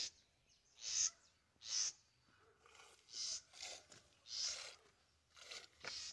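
Small bird calling outdoors in a series of short, high, faint chirps spaced about every second, with quiet rustling between them.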